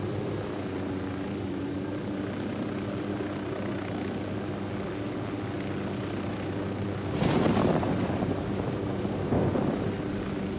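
Steady droning rotor and engine hum from a helicopter in Ghost Recon Wildlands runs throughout, with a louder whooshing burst near the end.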